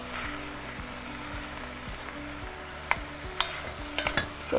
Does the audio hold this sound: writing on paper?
no